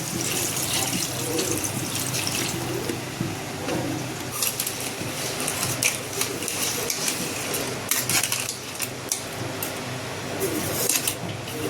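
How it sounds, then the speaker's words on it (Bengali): Water poured into a pan of simmering crab curry, a continuous splashing and bubbling with intermittent clinks and stirring noises, moderately loud and close, without talking. "এখন আমি জল দেবো জল দিয়ে দিলাম"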